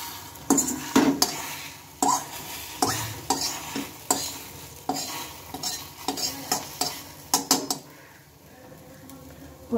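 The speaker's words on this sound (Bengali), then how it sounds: "একটা চামচের সাহায্যে বা খুন্তির সাহায্যে ভালোভাবে এটাকে ভেজে নিতে হবে" Egg frying in a pan while a spatula or spoon stirs and scrapes it, with repeated metallic clinks and scrapes over a soft sizzle, close and fairly loud, quieter toward the end.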